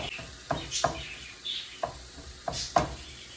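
Ground beef with Southwest seasoning cooking in a pan, a quiet sizzle broken by several sharp spatula scrapes and stirring knocks at irregular intervals.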